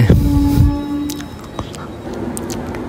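Inside a train carriage just before departure: a low, steady rumble with a faint tonal hum, a brief louder burst at the start and a few light clicks, heard close with no talk.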